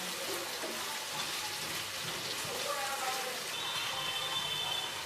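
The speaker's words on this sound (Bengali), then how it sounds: "আমি একসঙ্গে ভাজছি।" Chopped onion and small pieces of potato fry together in a pan, giving a soft, steady hiss and crackle that runs unbroken throughout at low volume.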